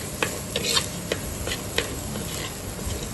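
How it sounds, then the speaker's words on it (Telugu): Onion and ginger garlic paste fries in hot oil in a pot, a steady close sizzle broken by a few sharp scrapes and taps of a stirring spoon. "ఆనియన్, జింజర్ గార్లిక్ పేస్ట్ని కాసేపు ఫ్రై చేసుకుందాం."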